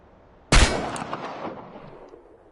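A single sharp gunshot during target-shooting practice in Chernobylite, loud and close, with a crisp crack that decays into a long echoing tail.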